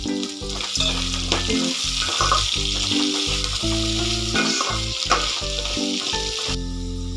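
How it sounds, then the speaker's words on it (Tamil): Garlic, green chillies and a lump of tamarind sizzle steadily in a hot pan while being stirred for a ridge gourd peel chutney, the frying continuous and close with frequent scraping knocks from the spoon, no voices. "அந்த பூண்டு கூடவே ஒரு 5 பச்சை மிளகாயும் ஒரு நெல்லிக்காய் சைஸ் புளியும் சேர்த்து அதையும் நல்லா வதக்கிக்கோங்க"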